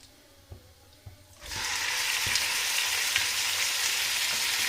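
Chicken pieces drop into hot oil with whole spices for pulao, bursting into a loud, sustained sizzle that continues evenly after a few quiet clinks.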